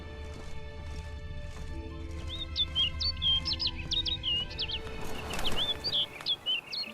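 Repeated bright chirping bird calls in The Witcher 3, several short trills over a steady game backdrop with horse hooves and movement underneath, growing busier toward the end.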